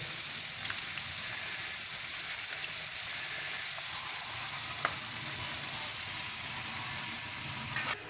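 Onion pakoda batter pinched into oil and frying over a low flame, a steady loud hissing sizzle with scattered pops throughout, no voices, cutting off abruptly at the end.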